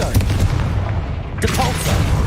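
Fiery Confringo spell blasts from Hogwarts Legacy crack out as a loud, close booming burst with a rumbling low end, followed by a second sharp impact partway through and lingering crackle.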